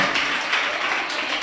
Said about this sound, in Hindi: आप लोग तालियां बजाओ